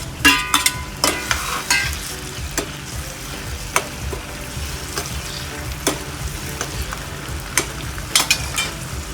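Tomatoes cook in a pan for sambar with a steady sizzle, broken by repeated sharp clinks and scrapes of a stirring spoon against the pan.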